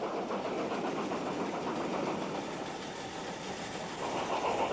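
A BR 9F steam locomotive on a climbing bank in 1950s footage, heard as a steady, dense rumble of train and wagon noise with continuous rolling clatter throughout, fairly distant and unbroken.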